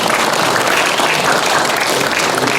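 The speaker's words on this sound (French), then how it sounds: "On peut l'applaudir" A banquet audience at a 70th-anniversary gathering of the Esso Exxon employees' association gives loud, dense, sustained applause for a former president, the many overlapping claps forming an even roar with no voices on top.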